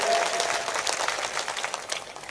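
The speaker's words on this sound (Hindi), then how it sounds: "अगर आप संजीदगी के साथ मुझे एक बार जोरदार ताली बजा करके" A live audience at a Hindi nazm poetry recital bursts into loud, sustained applause, dense clapping filling the space without a break.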